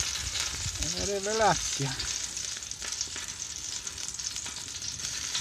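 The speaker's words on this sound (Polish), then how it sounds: "Słyszycie, jak skwierczą?" Roasted chicken legs sizzle and fry in hot fat with bits of pork fatback, a steady crackling hiss running throughout, with a brief spoken word partway through.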